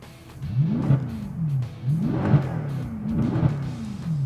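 A Mercedes C63 W204 with a stainless sport exhaust in race mode revs three times in steady succession, each blip rising and falling with a deep burbling tone, close and loud with no talk.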